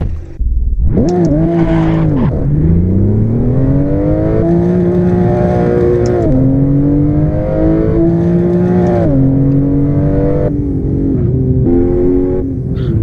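A Mercedes-AMG GLE 63 S engine revs loudly and close, climbing and holding through several rising pulls with brief gear-like drops between, a sustained throaty roar with no talk.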